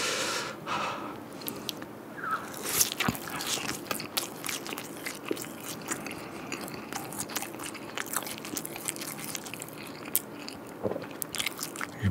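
Close-up biting, crunching and chewing of Korean convenience store food, with frequent crisp crackles and wet mouth sounds in an irregular rhythm, recorded very near.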